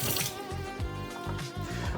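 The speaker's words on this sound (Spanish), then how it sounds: "Lo primero que vamos a hacer es lavar nuestro solomillo" Cold tap water runs steadily over a pork tenderloin being rinsed, a close, loud splashing stream with slight fluctuations as the meat is turned under it.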